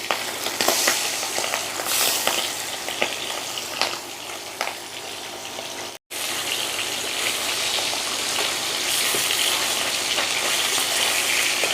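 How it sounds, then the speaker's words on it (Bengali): Hilsa fish pieces coated with salt and turmeric sizzle in hot oil, a continuous crackling fry with one very short break midway. "এবার আমি মাছগুলো ভেজে নেব।"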